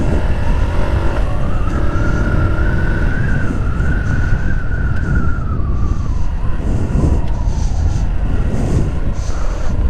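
A car drives steadily through a bend on a driving-school practice track while accelerating gently, its engine hum continuous and fairly loud with a rising tonal whine through the middle of the turn.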